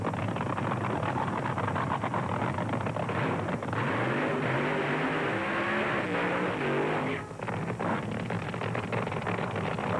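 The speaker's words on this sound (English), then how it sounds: "The funny cars of Gene Snow and John Decker." Funny car drag racers, 1970 Supernationals in Ontario, California, roar loudly and continuously down the strip at full throttle, with rising engine tones as they accelerate and a brief dip near the end.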